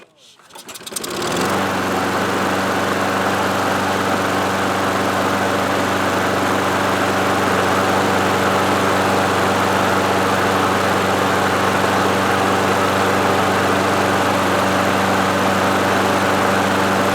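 A Craftsman self-propelled lawn mower's small engine starts after a brief sputter and settles into a loud, steady, close-up running drone that continues unbroken to the end.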